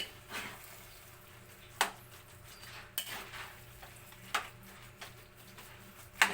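A spoon stirring sticky glutinous rice for biko in a cooking pot, a faint steady scraping broken by five or six sharp metallic clinks at irregular intervals, with no talking.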